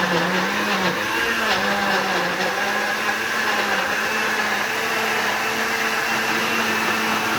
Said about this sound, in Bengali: একটা ব্লেন্ডারে এত কিছু, শুকনা করতেছি, ভাজি তরকারি সবকিছু করতেছি